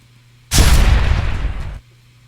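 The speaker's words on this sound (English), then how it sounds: "That's with the explosion tail." A loud, sudden Apex Legends game explosion bursts out and rumbles on with a long, crackling tail for over a second before cutting off.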